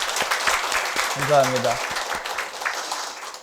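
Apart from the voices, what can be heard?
congregation applauding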